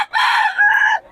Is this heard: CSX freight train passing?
no